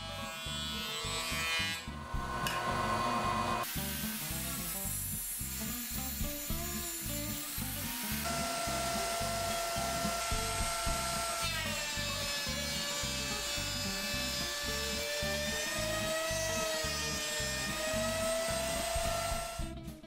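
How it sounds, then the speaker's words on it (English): A jointer and thickness planer milling rough 6/4 walnut boards flat in a workshop, a loud, continuous high-pitched machine whine with a steady cutterhead drone, pitch shifting slightly as each board feeds through, alone without voices. "Then milled them flat using the jointer and thickness planer."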